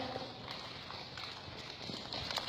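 Hooves of a ranch horse moving in a round pen, a soft steady patter of footfalls on dirt under a continuous outdoor noise bed, fairly faint and distant.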